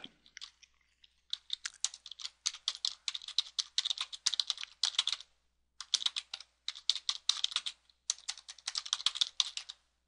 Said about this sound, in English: Not going to win any touch typing contests.